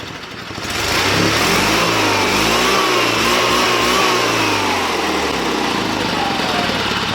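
A Sears Suburban SS16 lawn tractor engine runs on 2-stroke fuel mix. It is a loud, close, steady engine drone that holds constant after starting up, with no talk over it.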